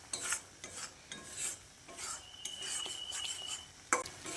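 Sugar being stirred into thick cooking moong dal in a pot, a utensil scraping and clinking against the vessel in several uneven strokes, with soft rubbing between them at close range and no voices.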